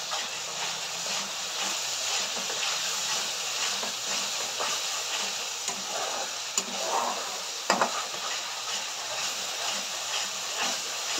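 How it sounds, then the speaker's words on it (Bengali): Masala with cumin powder fries in a pan as a continuous sizzle and hiss, with a few faint scrapes and clicks from stirring and no voices. "ভালো করে ভেজে নেব মশলাটাকে"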